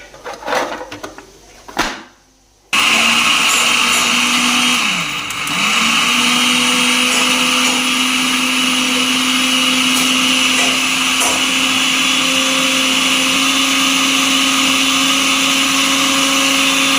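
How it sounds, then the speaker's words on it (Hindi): An electric chopper whirs loud and steady, chopping green chilies near at hand. A few knocks and handling sounds come first, then the motor drones on without a break, dipping briefly in pitch once. "मैंने चॉपर में डाल के हम चॉप करेंगे इसे।"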